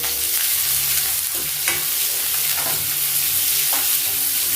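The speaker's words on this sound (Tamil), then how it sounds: "இந்த வெங்காயம் கொஞ்சம் பொன்னிறமாக வதங்கட்டும்." Two medium onions saute in a pan toward golden brown for a Tamil chicken curry, a loud continuous sizzle broken by several spatula scrapes and stirring strokes, close and without speech.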